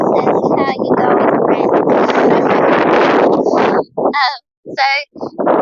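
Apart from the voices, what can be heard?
gust of wind at an airfield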